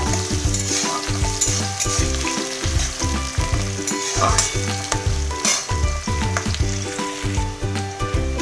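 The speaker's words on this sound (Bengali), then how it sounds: "পেঁয়াজটা আমি হালকা ব্রাউন করে ভাজবো, বেশি লাল করবো না বন্ধুরা।" Chopped onions fry in hot oil with whole cumin and two bay leaves for restaurant-style chicken masala, giving a steady, close sizzle with stirring scrapes under a tonal musical background.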